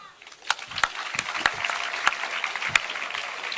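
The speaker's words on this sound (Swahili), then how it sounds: "Makofi kwao." An audience applauds at a gathering in Nairobi, giving a short burst of scattered hand claps with distinct sharp individual claps through a continuous patter, moderately distant.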